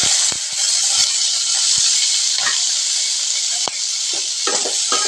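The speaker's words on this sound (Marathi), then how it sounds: "कढई पॅनमध्ये एक चमचा मी तेल घेतलेला आहे आणि त्याच्यामध्ये मी कांदा आणि दोन टोमॅटो" Chopped onion and two tomatoes fry in a spoonful of oil in a kadhai pan for a paneer curry, giving a loud, steady sizzle with a few sharp stirring clicks and no talk.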